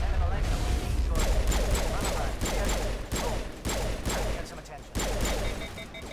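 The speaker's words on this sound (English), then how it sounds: "I just survived a sniper bullet" Gunfire in Mass Effect Legendary Edition on Insanity difficulty, with a sniper round among repeated sharp broadband shots and bursts over a steady low game rumble, loud and close, with voices in the mix.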